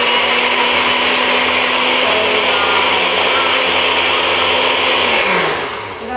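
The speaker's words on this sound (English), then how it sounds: "put about approximately 6 ice cubes, give or take, into a blender, and then you're going to blend it." A kitchen blender crushing about six ice cubes for a watermelon slushy grinds loudly and continuously for around five seconds, then winds down as the motor stops.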